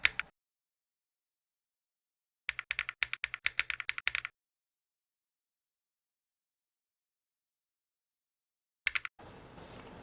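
Close clicking keystrokes on a computer keyboard while coding an ecommerce website: a short tap at the start, a quick burst of rapid typing, then a brief final flurry before faint background hiss.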